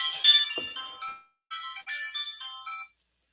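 A mobile phone ringtone plays a bright melodic chime in two bursts separated by a short gap, clear and fairly close, with no talk over it.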